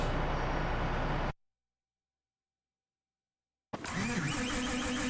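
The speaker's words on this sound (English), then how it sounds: "cultivator's rolling along" A tractor engine in Farming Simulator 15 hums steadily at mid pitch while pulling a cultivator, then cuts to a gap of silence and returns at a similar level.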